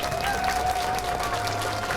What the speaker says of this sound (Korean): 자, 박수 한번 치고.